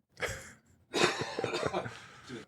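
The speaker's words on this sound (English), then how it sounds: "I'm going to pause for a second here and cough." Two harsh coughs, the first short and the second a longer rough burst, close to the mic with a brief silence between them.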